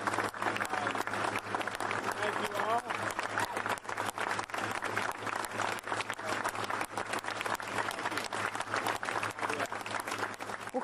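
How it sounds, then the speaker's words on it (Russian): Colleagues give a departing, dismissed US attorney general, Jeff Sessions, a standing ovation, with steady, dense applause and some crowd noise running continuously throughout, a low hum underneath. "Уходящему, а точнее уволенному Сэшенсу устроили, как вы видите, овации"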